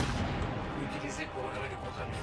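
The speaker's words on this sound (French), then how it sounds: "Ça fait vraiment mal ce snipe." Sniper rifle shots and combat in Anthem, a dense, loud wash of booming blasts and impacts filling the whole moment, with someone talking over it.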